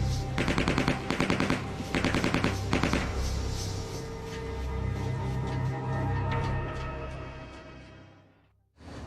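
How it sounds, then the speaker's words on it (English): Sound effect of 9mm Uzi gunfire: several rapid automatic bursts of close, sharp shots, followed by a lingering rumbling echo that fades before a brief drop to near silence. "three of them pulled out 9mm Uzis and started shooting"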